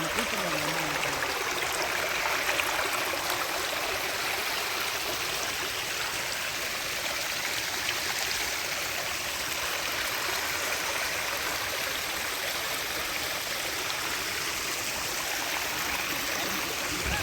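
Steady rushing of water flowing in the Raja Vaikkal canal fills the whole stretch, a continuous broadband wash with no voices, close and fairly loud.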